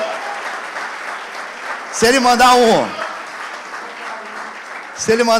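A church congregation applauds during a Sunday celebration service, sustained clapping across the room broken by someone speaking over it, with his voice returning near the end.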